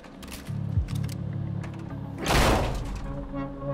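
Car door opened in the video game Quantum Break, a single mechanical thunk near the midpoint followed by a louder clunk and whoosh, heard amid a low rumbling game backdrop with no talk.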